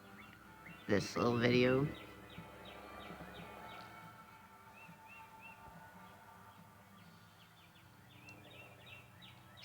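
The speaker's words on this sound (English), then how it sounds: "you can hear all the birds talking to me" Faint outdoor birdsong with scattered chirps and short repeated calls, running steadily in the background after a brief spoken phrase near the start.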